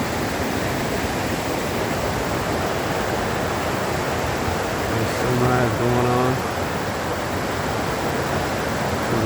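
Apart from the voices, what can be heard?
river flowing under a bridge on the Pacific Crest Trail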